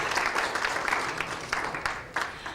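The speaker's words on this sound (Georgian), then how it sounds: "მივესალმოთ მას აპლოდისმენტებით." An audience gives steady, dense applause at a Georgian jury introduction ceremony, with a few sharper claps rising out of the continuous wash of hands.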